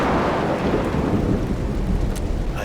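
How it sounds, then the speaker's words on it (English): Rain and thunder in the video game Road 96: a rolling thunder rumble over steady heavy rainfall, loud and continuous for a few seconds with no talking. "That's why I'm out here in the rain and not in my cab."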